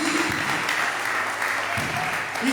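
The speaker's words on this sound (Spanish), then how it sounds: "Dele palmas a Cristo porque Él está aquí" A church congregation at a Spanish-language worship service claps steadily for a few seconds, dense and continuous, with a voice speaking over the applause.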